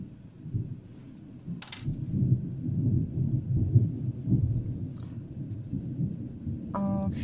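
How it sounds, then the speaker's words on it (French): A thunderstorm rolls on outside, with long low thunder rumbling continuously and swelling in the middle, plus a few faint brief clicks and chimes over the steady roar. "On finit la vidéo avec l'orage."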